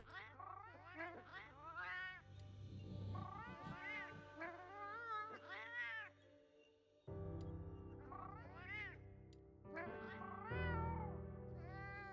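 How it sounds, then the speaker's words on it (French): A cat character in the video game Monster Hunter Wilds meows repeatedly in a run of short, expressive calls over a steady low game-music drone, with one brief pause partway through. "On lui fait parler le chat."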